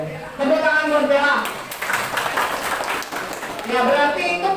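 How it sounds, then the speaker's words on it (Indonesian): Classroom audience of children clapping for a student named Bella, a dense burst of applause that swells and fades over a few seconds, with voices talking and calling out across it. "Tepuk tangan buat Bella."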